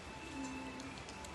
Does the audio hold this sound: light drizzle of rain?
yes